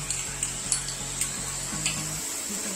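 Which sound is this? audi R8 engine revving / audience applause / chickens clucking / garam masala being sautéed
garam masala being sautéed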